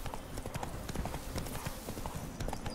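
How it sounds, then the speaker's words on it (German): Wild horses' hooves clip-clopping in The Witcher 3: Blood and Wine, a steady, close, rhythmic trotting patter with faint background ambience. "Wildpferde, ob man die auch reiten kann?"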